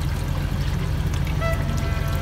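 Pork fat frying in a pan for traditional homemade cracklings after the water has cooked off, a steady dense bubbling hiss with fine crackle running throughout at close range, no voices.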